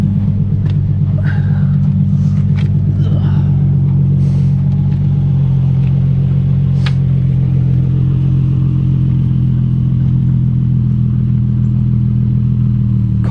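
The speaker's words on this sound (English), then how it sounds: "Car does not sound bad at all once it's just idling" A warm Lexus IS F V8 engine idles steadily with a low, throbbing rumble, a few faint clicks and clatters near the start, then settling into an even idle.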